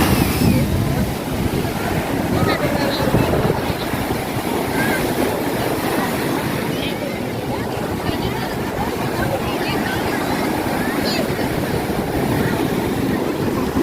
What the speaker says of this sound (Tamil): இந்தங்க கடல் அலையினுடைய ஓசையை கேட்டிங்களா?